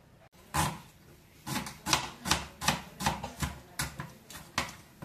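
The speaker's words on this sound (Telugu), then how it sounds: "ఇవి కూడా శుభ్రంగా కడిగేసేసి కట్ చేసుకుందాం" A knife chops tomatoes, onions and green chillies on a board in about a dozen crisp, fairly regular strokes, close and clear with no talk.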